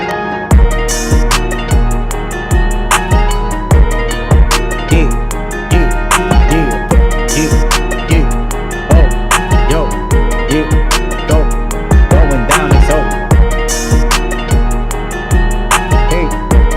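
A 150 BPM halftime beat built in Studio One Pro 7: punchy kicks and snappy hits repeat steadily over sustained pads and hi-hats, loud and full, playing alone without voices.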